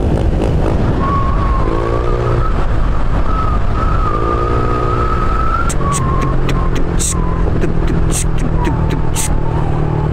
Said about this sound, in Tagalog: Lutong ng pipe natin oh.